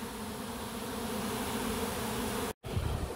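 A swarm of bees gives a dense, steady buzz close by, loud and unbroken, with a brief dropout near the end before the hum returns. No voices are heard.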